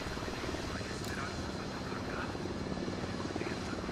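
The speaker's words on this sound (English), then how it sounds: "Seen a helicopter in a distance north of us." A distant helicopter in the video game Ghost Recon Wildlands, a continuous low rotor drone with steady engine rumble, held at a constant level for the whole stretch.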